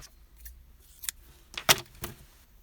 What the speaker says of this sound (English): now all you have to do is cut the yarn